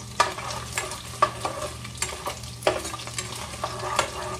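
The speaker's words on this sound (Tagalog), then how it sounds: "ang aking pork na piniprito" Pork frying in a pan gives a steady close sizzle, with a utensil clattering and scraping against the pan every second or so, and no talking.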